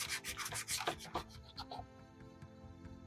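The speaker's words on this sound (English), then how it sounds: "So just a good light sanding over it." Light hand sanding over fresh paint on a Nerf Aliens pulse rifle: close, soft rasping strokes repeated in quick rhythm, then fading to quiet.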